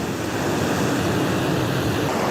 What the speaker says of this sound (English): we outside in the sun, right in front of the water